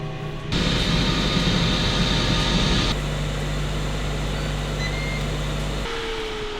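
Ninja Foodi Smart XL indoor grill preheating in a kitchen, a loud, steady fan-like roar with a jet-engine quality that jumps in abruptly, eases slightly midway and holds on continuously without talk.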